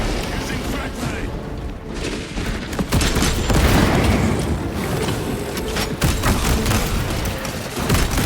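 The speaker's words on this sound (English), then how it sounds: "Using frag grenade!" Frag grenade explosion amid battle in Warhammer 40,000: Space Marine 2, a dense roar of overlapping gunfire and blasts with a loud burst midway, continuous and close, with combat voices mixed in.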